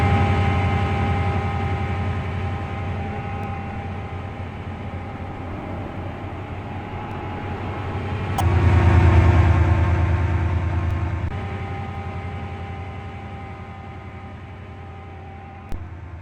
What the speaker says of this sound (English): I think I will watch the train leave.